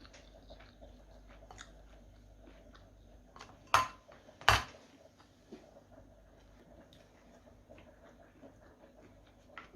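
Someone eats sticky rice at close range, with soft intermittent chewing and two sharp clinks of dishes or utensils amid quiet room sound.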